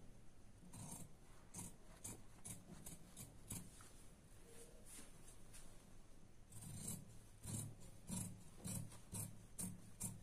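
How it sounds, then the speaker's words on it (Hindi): Scissors snipping a fabric strip for a princess-cut blouse, a run of quiet close crisp cuts with a pause in the middle, then a quicker burst of snips. "इतनी साइज रखते हुए हम इसे काट लेंगे।"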